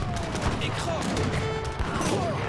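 Age of Empires 3 combat with heavy cannon firing and volleys of musket fire, a busy stream of overlapping shots and booms running throughout under a voice.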